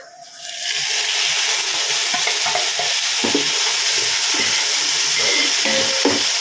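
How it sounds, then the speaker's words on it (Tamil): Ginger garlic paste frying in ghee for chicken biryani: a loud, continuous close-up sizzle that swells in after a quiet start, with faint stirring scrapes underneath. "கொஞ்சம் பச்சை வாசனை போகிற வரைக்கும் ஃப்ரை பண்ணிக்கலாங்க"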